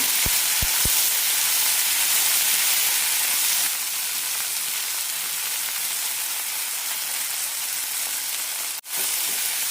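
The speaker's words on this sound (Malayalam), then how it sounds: "തക്കാളി ഇടാം തക്കാളി നന്നായി വെന്ത് കിട്ടണം അതുവരെ വഴറ്റാം" Tomatoes sautéing in a hot pan for a simple kurma curry, a loud continuous hissing sizzle held close, with a few brief knocks at the start and a short drop near the end.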